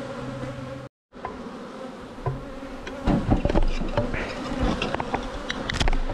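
A month-old honeybee swarm hums and buzzes densely around a hive, a steady close insect drone with individual bees zipping past, a brief dropout near the start and scattered soft knocks of handling.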